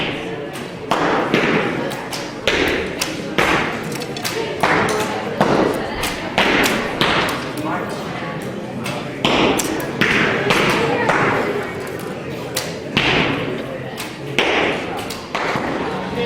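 Arrows from hunting bows striking targets during an instinctive archery shoot, a string of sharp thuds and taps spaced every second or so over a long stretch, with people talking underneath.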